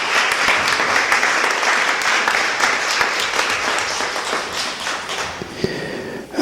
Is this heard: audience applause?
yes